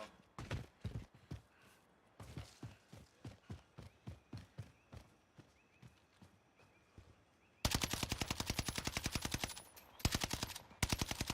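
Call of Duty Warzone machine gun fire rattles out in short bursts, then breaks into a long, loud, rapid sustained volley near the end.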